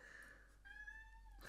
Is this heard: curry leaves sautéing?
no